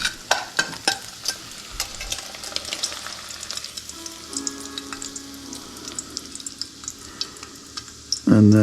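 Bacon frying in a soup pot, with a steady close sizzle and pops of fat under scattered utensil taps and clatter, ending in a brief louder clunk.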